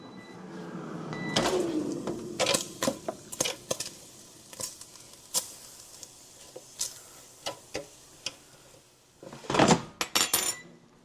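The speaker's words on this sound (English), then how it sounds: "So all that I did there was just kind of toss it around with a fork" A fork tosses bacon around in a frying pan, giving a series of sharp metallic clinks and scrapes at irregular intervals over a faint sizzle, with a louder clattering burst near the end.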